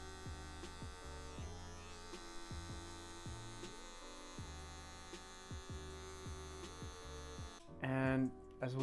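Electric hair clippers buzz in short repeated passes during a fade haircut, the motor's hum rising and dipping with each stroke near the microphone, with a louder burst near the end.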